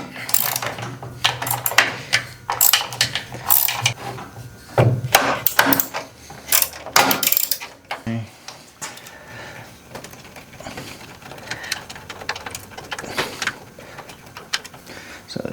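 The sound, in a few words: removing 5/16 bolts from garage door opener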